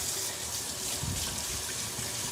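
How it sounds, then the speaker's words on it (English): Hot water runs steadily from a kitchen sink faucet into an ice-filled garbage disposal, a constant close hiss and splash with no break. "go ahead and turn your water on hot"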